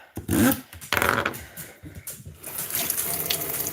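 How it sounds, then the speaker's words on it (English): A knife rinsed under a running kitchen tap, with water gushing and splashing in a sink in uneven bursts, loud and close, shifting as the blade moves through the stream. "And you rinse it in the sink so you don't get like any metal chips or whatever."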